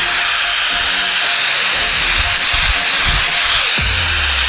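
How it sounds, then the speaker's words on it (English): A grinder works down the edge of windshield trim on a classic car, a loud, continuous high hiss of abrasion with a few low bumps and shifts in contact, no speech. "I'm gonna take a little bit of the grinder just to grind down a little edge on the back side of it."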